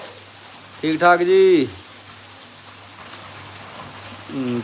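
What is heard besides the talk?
rain falling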